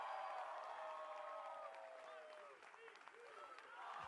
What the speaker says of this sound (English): please give him the best round of applause you can